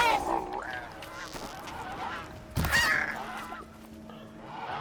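Goose honks from Horizon Zero Dawn gameplay on PS5, a few nasal calls at mid distance over a steady game ambience, with one louder burst partway through.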